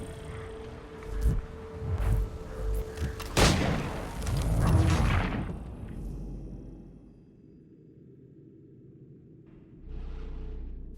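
Heavy booming cannon blasts in Assassin's Creed III Remastered, in a quick cluster, loud and close, with rumbling echoes and a sharp crack, then a low steady hum and a faint later thud.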